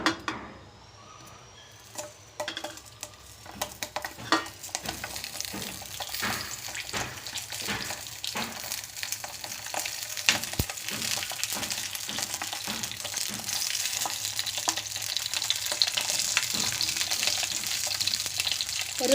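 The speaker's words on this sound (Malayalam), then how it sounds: "അപ്പോൾ എണ്ണ ചൂടായിട്ടുണ്ട്. നമുക്ക് ഇനി ഈ ക്യാപ്സിക്കം ഓരോന്നും അതിലേക്ക് ഇട്ട് കൊടുക്കാം." Stuffed capsicums dropped into hot oil in a pan, giving a loud, steady sizzle and crackle that builds and holds with occasional pops and stirring clatter, no talking.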